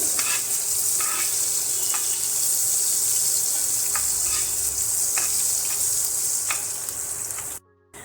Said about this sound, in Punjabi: ਹਰੀਆਂ ਮਿਰਚਾਂ ਨੂੰ ਭੁੰਨ ਲਵਾਂਗੇ